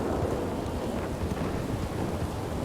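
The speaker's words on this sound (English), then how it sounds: "I really can't hear with this thunder." Thunder rolls through a stormy Red Dead RP game environment, a sustained low rumble blended with rain and wind hiss, steady and moderately quiet, no talking.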